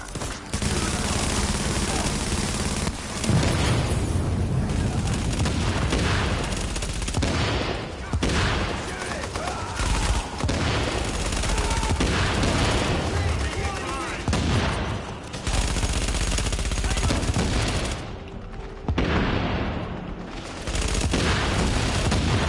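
Sustained gunfire in the video game The Division, a long dense stretch of rapid shots and bursts with booming impacts, nearly continuous and loud, with a few brief lulls and occasional voices mixed underneath.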